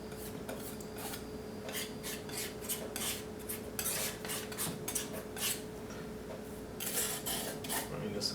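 A palette knife scrapes paint across a small 9x12 canvas in a steady run of close, rasping strokes, with repeated bursts of bright scratchy texture over a faint background hum.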